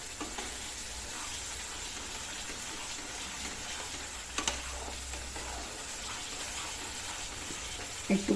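Chicken sautéing in ghee over a moderate flame, a steady soft sizzle running throughout with a few brief clanks of stirring near the middle and at the very end; no one speaks.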